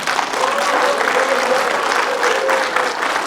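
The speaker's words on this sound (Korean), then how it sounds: "정세균 후보한테 박수를 보냅니다" Audience applause at a political campaign rally for presidential candidate Chung Sye-kyun in Sejong City, a dense, continuous wash of clapping from a large crowd, loud and sustained, with faint voices mixed in.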